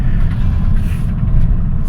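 2009 Honda Fit engine pulling under acceleration, a brief loud low-pitched droning rumble from inside the car, steady with no speech.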